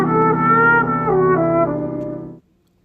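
A D pentatonic flat 6 scale rises and falls as a run of sustained notes over a held C dominant 13 sharp 11 chord, clear and alone, before it cuts off abruptly.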